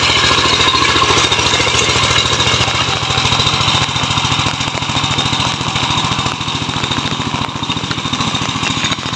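Kuliglig, a motorized farm cart with a small engine, running steadily nearby with a loud, rapid, rattling putter that holds constant throughout with no pauses.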